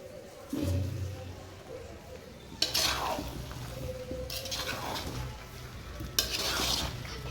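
Olives are stirred in a sizzling pan for olive pickle, with three distinct scraping, clattering strokes of the spoon against the pan over a steady frying hiss.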